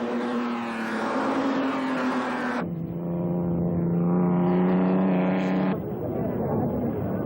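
Pre-war ERA racing cars at Brooklands, one driven by Peter Whitehead, roar past with a loud, steady engine note that drops in pitch and changes twice as the cars pass.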